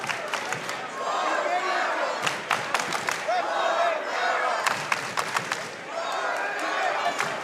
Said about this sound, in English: Not often can you hear an away crowd through the headsets no matter what.